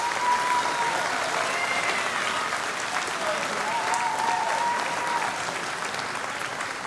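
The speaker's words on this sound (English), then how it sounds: "if you could give a round of applause to Mr. Teitler, Mr. Heinley, and to all of our teachers" A school audience gives sustained applause for its teachers, a broad, even roar of many hands clapping from a hall that holds steady for several seconds before tapering slightly.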